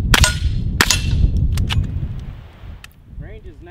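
A CZ Scorpion EVO fires two sharp, loud gunshots close by in quick succession, each with a ringing tail, followed by fainter metallic clicks and a short voice near the end.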